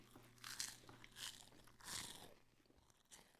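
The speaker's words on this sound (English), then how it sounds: "The chewing is so loud." Loud, close crunching and biting during a meal, several bursts of chewing in a row with short pauses between.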